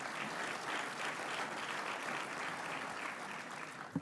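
Luncheon guests applaud at the Groundhog Luncheon, a soft, even wash of many hands clapping at a distance, steady for several seconds.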